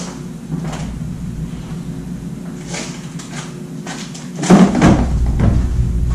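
A pantry door in a home kitchen rattles and opens close by, with light handling knocks at first and a louder thump and rustle near the end.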